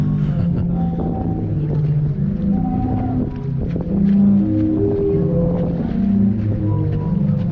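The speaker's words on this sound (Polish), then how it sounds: "I kołysanie wody wymusza, wymusza ruch powietrza tych komorach i powoduje to takie dźwięki." The Zadar sea organ on the Croatian coast, where waves push air through pipes under stone steps, sounds low, breathy, overlapping tones that swell and fade, with wind buffeting and water movement underneath.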